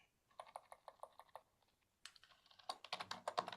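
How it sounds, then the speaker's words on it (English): Someone types on a computer keyboard in a quiet room, a quick run of light key taps, a short pause and then a denser burst of clicks, faint and close with no talking. "what Tracy's typing"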